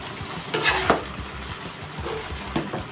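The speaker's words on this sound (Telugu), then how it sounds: "దీన్ని ఒకసారి అలా మిక్స్ చేసుకుందాము" Jeera rice is stirred in a pot on the stove, a spoon scraping and turning the grains with a few clinks against the metal over a steady low sizzle, close and fairly quiet.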